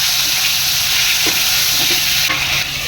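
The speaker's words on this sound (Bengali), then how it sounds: "পটলটা আমি এপিট ওপিট করে কিছুক্ষণের জন্য ভেজে যাব" Potol (pointed gourd), salted and coated with turmeric, fries in hot oil in a pan, making a loud, dense, continuous sizzle close up.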